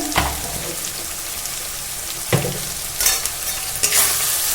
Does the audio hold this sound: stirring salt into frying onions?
yes